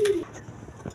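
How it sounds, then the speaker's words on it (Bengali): A pair of red Indian Bombay pigeons gives a single short, soft coo, close by, followed by faint low rustling. "এক পেয়ার অরিজিনাল ইন্ডিয়ান বোম্বাই কবুতর"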